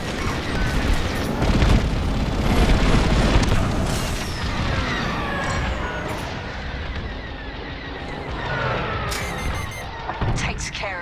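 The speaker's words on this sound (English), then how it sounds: "Titan, we're launching beryllium missiles from the Overseer now." Beryllium missiles launched from the Overseer capital ship in Star Wars: Squadrons roar out as a loud, continuous barrage of booms and rumbling blasts, with crackling bursts layered over a dense battle din and voices nearby.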